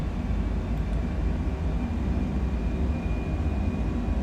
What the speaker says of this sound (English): Alright, so takeoff. Okay, throttles in the TOD tent.